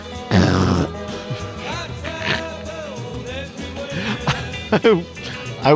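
A person beatboxing with the voice, imitating a whistle-like effect in place of an a cappella sound: bursts of mouth percussion, clicks and pitched vocal sweeps, loud and close, with a strong hit near the start and sharp pops toward the end.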